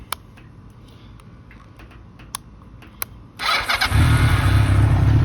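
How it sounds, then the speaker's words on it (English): A 1995 Honda Nighthawk 750 motorcycle engine cranks after a few quiet clicks and knocks, then catches and settles into a loud, steady idle close by. "we're going to warm the bike up to running temperature"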